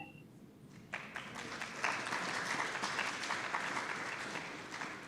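Applause after a conference presentation starts with a few scattered claps, then swells into steady clapping from a moderate-sized audience that holds for several seconds.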